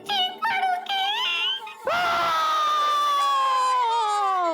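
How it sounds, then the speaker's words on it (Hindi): A high, sustained wailing scream with rising and falling pitch, loud and close, following a shorter broken cry, with no talk over it. "ये किसकी चीखने की आवाज है?"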